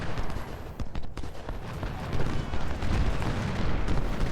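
Battlefield barrage of Civil War artillery fire in the strategy game Ultimate General: Civil War, with dense rumbling booms and cracking shots rolling continuously, growing louder midway through.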